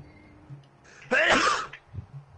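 A single sharp, loud sneeze bursts out close up during a PS4 Rainbow Six session, followed by a brief quiet breath and faint low background sounds.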